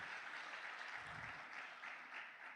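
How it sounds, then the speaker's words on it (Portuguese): A church congregation applauding after worship music, a faint, distant and continuous wash of clapping with no clear individual claps. "Vamos aplaudir o Senhor pelo louvor."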